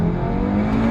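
Inside a 2017 Audi RS3 8V2 with its S-tronic gearbox and 400 hp engine, a steady engine drone hums loud and close, a brief sustained note with no talking.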